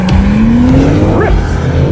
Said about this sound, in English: foot to the ground, launch control active, and go.